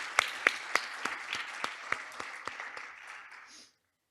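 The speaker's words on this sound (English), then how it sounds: "let's give him a great round of applause" Audience applause at an awards ceremony: a dense wash of clapping with several sharper individual claps near the start, steady for about three and a half seconds before stopping abruptly.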